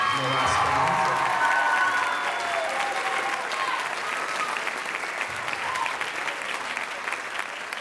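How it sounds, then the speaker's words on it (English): A school spring band concert audience applauds the fourth period Wind Ensemble with sustained, dense clapping that holds steady, with a few voices cheering underneath. "how about one more round of applause for fourth period Wind Ensemble?"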